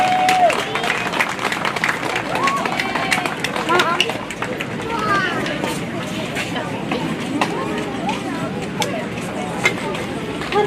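Steady applause from an audience of parents and children at an elementary school awards ceremony, clapping loudly and evenly the whole way through with crowd murmur and a few voices mixed in.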